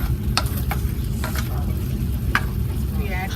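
Onions, green pepper and tomato roast with chicken tikka in a pan, a continuous close sizzle broken by several sharp stirring scrapes, with no talk.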